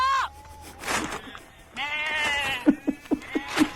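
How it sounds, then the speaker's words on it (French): A flock of about 300 sheep bleats loudly and close by, wavering calls overlapping one another, with a run of quick rhythmic thumps near the end. "Maintenant, 300 moutons se dirigent vers une route à 4 voies."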